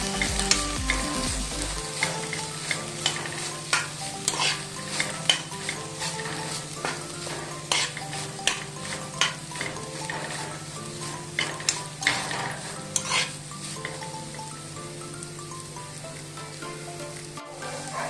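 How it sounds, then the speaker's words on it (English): Grated coconut being mixed in a frying pan over steady sizzling, with quick rhythmic scrapes and taps of a spatula on the pan, close up and continuous, no voices. "half a coconut which I have grated. We'll just give it a mix."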